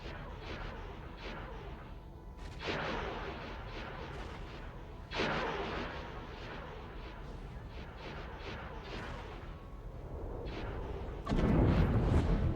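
Guns in the Star Wars Interworlds game fire in a steady distant barrage of booming reports and pops, layered over rumbling battle noise with louder blasts at intervals.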